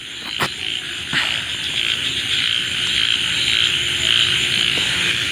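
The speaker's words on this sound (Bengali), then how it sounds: "ব্যাঙ ডাকতেছে, অনেক দিন পর এরকম ব্যাঙ ডাকার শব্দ পেলাম চারপাশে।" Frogs croak steadily in a dense chorus after rain amid loud insect buzzing, with a few sharp clicks near the start; no one speaks.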